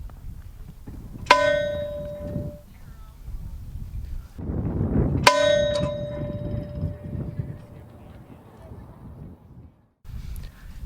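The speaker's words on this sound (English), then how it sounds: "We will now have the ringing of the Todd Antone Memorial Bell" The Todd Antone Memorial Bell rung at a high school commencement for the class of 2020: two loud, clear metallic strikes a few seconds apart, each ringing out and decaying, with crowd murmur and background noise between.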